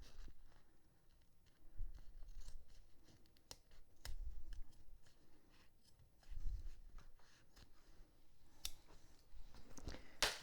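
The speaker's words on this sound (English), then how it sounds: "Now I use separate scissors for my zippers. Can trim this back." Separate sewing scissors trim back zipper tape and the window facing of a zipper pocket, making a string of soft, close snips and clicks with small fabric rustles and handling sounds in between.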